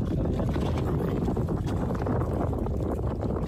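A small Filipino bangka boat moves over water with a constant low rumble and wash, and wind buffets the microphone throughout.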